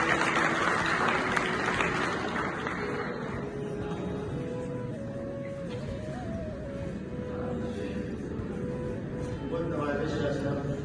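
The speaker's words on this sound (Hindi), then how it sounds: "आप सबकी तालियों की गूंज में" Audience applause at a trilingual poetry mushaira held at a government degree college, a dense clapping wash under a sustained tonal hum, with crowd noise continuing throughout.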